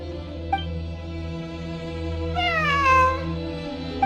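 Cat meows inside the video game Genshin Impact: a short call near the start, then a longer, clear rising-and-falling meow later, set over a steady low musical drone.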